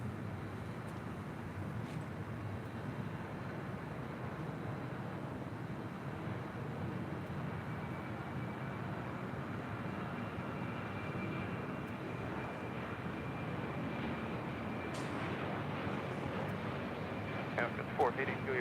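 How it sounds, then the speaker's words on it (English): An Alaska Airlines Boeing 737-800 arriving at LAX from Portland produces a steady, broad engine roar at moderate distance that holds for the whole stretch, while a person talks faintly over it. "Next arrival here on the north side is Alaska Airlines in the not so much Toy Story 4 livery, coming in from Portland in the 737-800."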